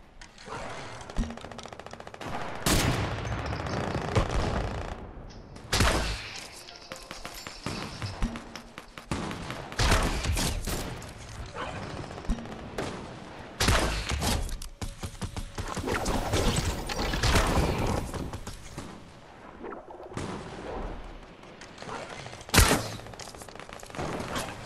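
Rapid bursts of gunfire in a Fortnite match, sustained automatic volleys broken by brief pauses across the whole stretch, loud and dense, with no talking.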